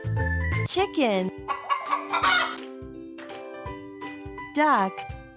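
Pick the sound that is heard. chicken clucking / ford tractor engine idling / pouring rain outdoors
chicken clucking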